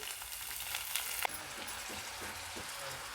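Garlic, carrot and cabbage frying in hot oil in a pan for momos filling, a steady close sizzle with a brief clatter as something is added partway through.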